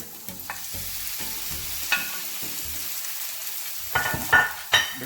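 Beef devil cooking in a pan: a steady frying sizzle runs throughout, broken by irregular scrapes and clanks of a utensil stirring the meat, with a few louder knocks near the end.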